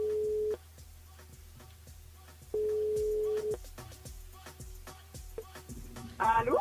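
A telephone line tone rings out during a live French radio call-in show, two steady beeps of about half a second and a second each over faint background music, followed by the line connecting.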